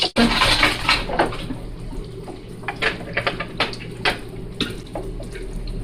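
Steady sizzling of hot oil with a few soft plops and splashes as frozen ice cream balls drop in, close by and fairly loud.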